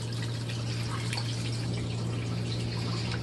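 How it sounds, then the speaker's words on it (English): A Giantex full-automatic portable compact washing machine rinses, giving a steady wash of churning, trickling water over a constant low motor hum, with no talking. "Rinsing, getting all that water out."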